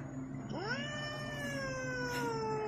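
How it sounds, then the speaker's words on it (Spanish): A cat gives a single long, drawn-out meow that rises and then slowly falls in a wailing tone, close and clear over faint background. "Es miau."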